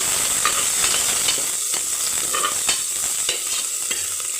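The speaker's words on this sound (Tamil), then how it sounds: "வெங்காயம் போட்டு நல்லா வதக்கிக்கலாம்." Onions sautéing in a pan for Tamil-style chicken gravy, a steady close sizzle with a hiss throughout and repeated scrapes and clacks of a spoon stirring, no talking.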